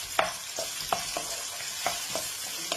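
Onions for noodles frying in a pan with a steady broadband sizzle, punctuated by several sharp scraping stir strokes at irregular intervals, close and moderately loud with no talking.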